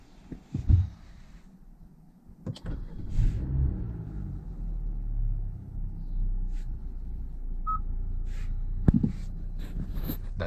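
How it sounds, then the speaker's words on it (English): A new car's engine cranks and catches with a low rumble, then settles into a steady idle heard from inside the cabin, preceded by a few clicks and thumps. "let's start up the car"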